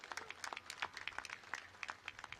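Audience applause at a business event, a faint, sparse patter of scattered hand claps heard from a distance, with no voices.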